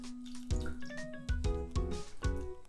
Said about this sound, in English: to that I'm going to put in exactly the same amount of water, which is 100 gram or 100 milliliter